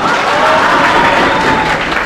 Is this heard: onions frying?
no